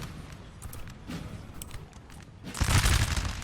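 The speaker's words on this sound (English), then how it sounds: "just started artillery hitting here" Artillery fire in the Napoleon Total War battle game during a 3v3 match: a dense crackle of distant gunfire and rumbling runs throughout, swelling into a louder, heavier burst of booming volleys near the end.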